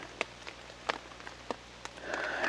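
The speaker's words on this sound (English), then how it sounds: "Just dismal, this rain and this wet." Rain patters and drips around a hiking camp in the wet Beskid Niski hills on the Polish-Slovak border, a few distinct drops landing close by over a soft steady hiss, with a brief louder swell near the end.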